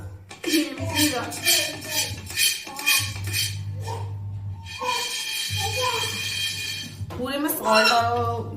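A heavy pressure cooker holding popcorn kernels, salt and coconut oil is shifted on a home stove, giving metallic clanks and scrapes under a steady hum while someone talks nearby.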